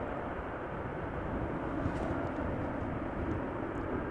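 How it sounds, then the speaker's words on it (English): Airliner landing at Amsterdam Schiphol in a crosswind after a storm, using idle reverse thrust: a broad, steady roar of engine and rushing air, moderately distant and unchanging across the moment. "that very much looked like an idle reverser landing"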